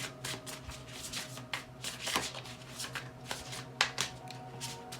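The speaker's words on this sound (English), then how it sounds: "And I've shuffled before." Tarot cards shuffled by hand, a run of crisp riffling and slapping bursts with brief pauses, close and alone over a faint low hum.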